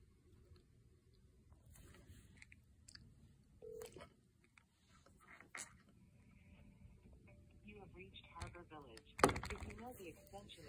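Several short, sparse tones sound as a telephone dials a rehab facility in Miami, Florida. They are faint against quiet room noise, with scattered small clicks and handling sounds and one louder burst near the end.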